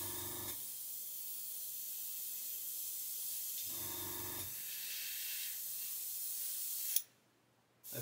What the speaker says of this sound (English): when we come to spray the sides, we're going to want to do this again